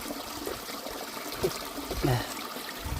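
Water poured out in the forest, a soft trickling and splashing with a couple of louder gushes, heard close amid quiet outdoor background.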